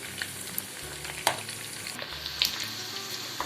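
Chicken 65 pieces deep-fry in oil with a soft, low bubbling sizzle and scattered pops and crackles, fairly quiet and close, with one sharper crackle early on.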